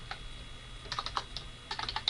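Keystrokes on a computer keyboard, typing a short comment into an Edmodo assignment, come in quick irregular bursts separated by brief pauses, close and clear with no talking.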